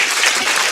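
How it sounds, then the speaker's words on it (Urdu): Applause from a studio audience at a televised Ramadan quiz competition, honoring three participants: dense, steady clapping filling the whole short moment with no voices on top. "تالیاں ہو جائے تینوں پارٹیسپینٹس کے لیے"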